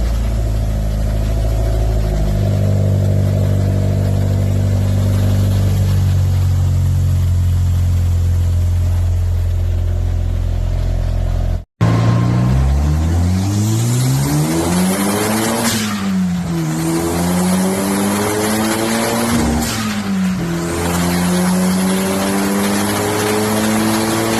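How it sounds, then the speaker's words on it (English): A Toyota MR2 sports car engine idles with a deep rumble, then revs hard several times, the pitch climbing and falling with each loud blip. "let's hear what the engine actually sounds like"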